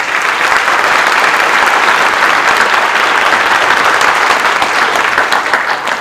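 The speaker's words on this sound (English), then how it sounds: "So give them a round of applause, please" Steady, dense applause from a large audience at a summer school band concert, loud and sustained for the whole stretch, with no voices standing out.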